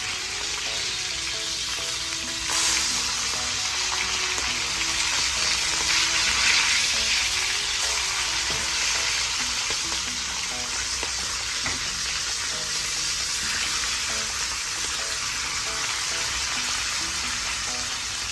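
Pomfret fish frying in a pan just after turning, a loud continuous close sizzle with faint stirring clicks, no talking.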